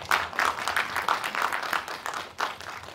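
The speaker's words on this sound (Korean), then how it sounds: "여러분 큰 박수 다시 한번 보내주세요." Audience clapping for a film director at a drama production press conference, a steady wash of applause from a hall crowd that dips briefly near the end and picks up again.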